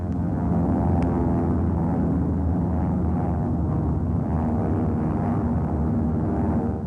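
Wartime bomber from 1944 with one engine shot out, limping home: a steady, loud, droning engine rumble that holds constant throughout with no pauses or voices.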